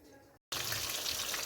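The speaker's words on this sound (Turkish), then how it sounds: "Köftelerimizi artık şu anda kızarıyor efendim." Meatballs frying in hot oil in a home kitchen, a loud bright sizzle that cuts out briefly and then returns strongly and steadily.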